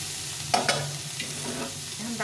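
Cooked dal tipped into hot oil spiced with cumin powder, giving a couple of sharp splashes followed by soft sizzling and the scrape of stirring, close and moderately loud with no talk.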